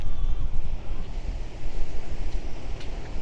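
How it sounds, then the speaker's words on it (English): Strong wind gusts buffet the microphone on a beach at Caister-on-Sea, a constant low roar with surf washing underneath and no speech. "It's mega windy this way."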